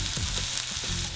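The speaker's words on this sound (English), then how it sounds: "Sweating a vegetable just means putting it in a pan, moving it around, making it a little brown." Vegetables sweating in a hot pan give a steady, loud sizzle and frying hiss with faint stirring scrapes, continuous and close, with no talk.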